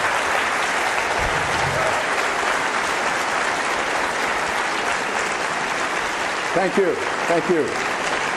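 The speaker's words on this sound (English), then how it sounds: "By your extended clapping, you're eating up into the next speaker's time." A debate audience applauds at length, with steady, full clapping filling the hall before a speaker's voice breaks in near the end with brief thanks.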